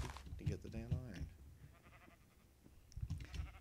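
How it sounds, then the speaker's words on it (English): Sheep bleat a couple of times in the Minecraft video game, short wavering calls near the start with a game voice talking over and around them. "so many sheep."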